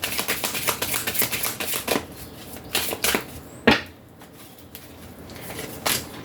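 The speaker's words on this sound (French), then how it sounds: "va prendre juste une carte de chaque oracle" Oracle cards being shuffled and drawn, with bursts of riffling and flicking card sounds, a sharp snap of a card, then quieter pauses between handling noises.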